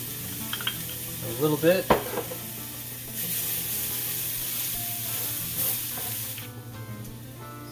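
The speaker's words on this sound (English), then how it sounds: "we're throwing in some garlic. Gonna let this cook for" Garlic sizzling in olive oil in a pan over medium-low heat, a steady close frying hiss with a few stirring clinks early on and brief speech over it.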